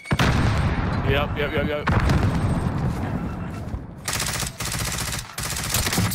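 Rapid automatic gunfire from Call of Duty: Modern Warfare rattles close and loud in bursts, with heavier booming shots and short gaps between volleys, while a player speaks briefly over it.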